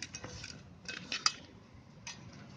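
A spoon works ginger-garlic paste and kokum juice into black rainy-season fish in a bowl, giving faint, close scraping and soft clinks of metal against the bowl in a few short bursts, with no voices.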